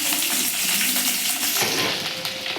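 Dried red chillies, tempering seeds, cumin and green chillies sizzle and crackle in hot oil while being stirred for a puri curry, a loud, steady frying hiss with occasional scraping.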